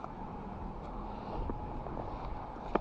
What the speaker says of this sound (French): le vent se fait sentir